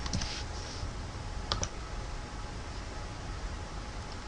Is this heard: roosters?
no